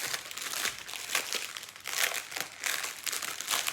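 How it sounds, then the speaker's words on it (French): Plastic packet of diamond painting drills being opened: continuous close crinkling and rustling of thin plastic in uneven bursts, with no talking. "Alors, on va ouvrir les diamants."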